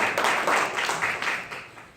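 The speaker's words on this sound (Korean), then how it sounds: "뜨거운 박수 부탁드립니다" Church congregation applauding during a Sunday service, a short burst of hand clapping with a few uneven swells before tapering off.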